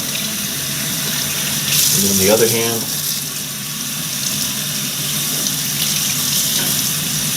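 Hands are rinsed under a running sink tap, with a steady close hiss of water splashing throughout and a brief louder splash as the hands move, while someone speaks briefly over it.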